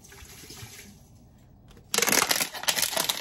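After some quiet handling, water suddenly pours into a pot of milkfish and mung beans, a loud, close splashing stream that continues to the end.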